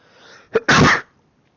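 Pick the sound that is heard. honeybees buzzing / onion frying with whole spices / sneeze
sneeze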